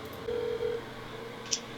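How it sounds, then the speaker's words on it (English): Telephone keypad tones as a call is dialed, a steady tone held briefly and then a short higher beep, faint over a low background hum. "I'm calling him right now to see if we can do it tomorrow night"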